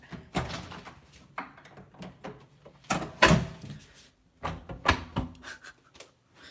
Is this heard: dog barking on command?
no